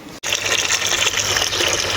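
Water pours out of a bucket in a steady, loud gush that starts after a brief cut near the beginning and runs on evenly to the end, with no talking over it.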